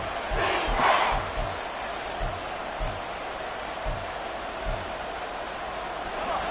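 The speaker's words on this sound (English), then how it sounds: "The Arrowhead crowd in full roar." A football stadium crowd at Arrowhead roars, a broad sustained rumble with swelling cheers and scattered deep thumps, heard from within the stands under faint commentary.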